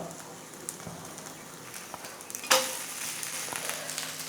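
A rava dosa crisps on a hot pan as oil is poured around its edges, producing a soft steady sizzle that briefly surges into a louder hiss and crackle midway, then settles again.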